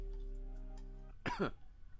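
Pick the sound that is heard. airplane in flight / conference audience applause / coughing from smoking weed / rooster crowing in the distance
coughing from smoking weed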